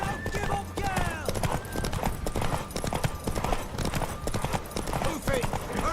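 Horse galloping in The Witcher 3, rapid rhythmic hoofbeats close up, mixed with game music and voices talking over them.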